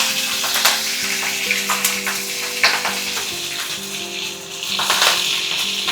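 Fenugreek leaves and garlic sizzle steadily in hot oil with cumin and mustard seeds for a chukkakura chutney, a dense crackling hiss broken by a few louder sputters and faint stirring clinks.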